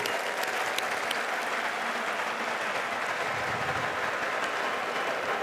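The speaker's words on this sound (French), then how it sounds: "Ils méritent certainement nos applaudissements." An audience applauds the builders of a new solar-lit stadium in Senegal, a broad, dense roar of clapping that stays steady and loud throughout, with a low rumbling undertone in the background.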